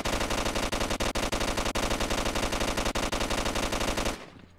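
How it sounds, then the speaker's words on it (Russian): Automatic gunfire from S.T.A.L.K.E.R. multiplayer, aimed at a controller mutant down in a basement: a dense, loud, unbroken stream of rapid shots for about four seconds before stopping abruptly. "стреляю в него."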